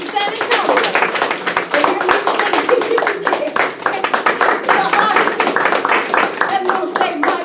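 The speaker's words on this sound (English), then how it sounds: "And he deserves a round of applause." Audience applause at a lecture, a sustained burst of many hands clapping at close range for several seconds, with some talk mixed in beneath it.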